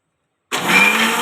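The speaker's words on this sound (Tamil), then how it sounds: "அது நல்லா கலக்கிட்டு மூடி போட்டு ஒரு தடவை கிரைண்ட் பண்ணிடுறேன்" A blender grinding an Oreo milkshake with the lid on kicks in after half a second of silence and holds a loud, steady whirring roar to the end.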